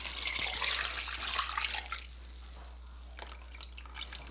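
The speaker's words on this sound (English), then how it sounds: "Pour in all your chicken stock." Chicken stock pours steadily into a bean-flour moi moi mixture for a couple of seconds, then thins to light trickling and drips.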